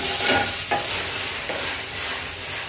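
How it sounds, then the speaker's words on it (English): Shrimp goes into a hot pot for garlic butter shrimp and fries with a loud, close hiss and sizzle, with a brief stirring clatter in the short burst. "Make sure the pot is hot enough. Then we're going to add our shrimp."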